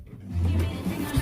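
A Mercedes CLA 250 AMG engine starts, with a brief crank and catch followed by a low, steady idle rumble that swells slightly near the end.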